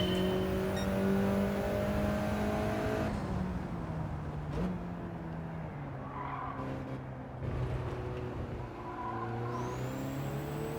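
A Mitsubishi Lancer Evo 9 in Gran Turismo 7 drones through a race, its engine note holding steady, dipping under braking with tire squeal, then climbing again as it accelerates, loud and continuous.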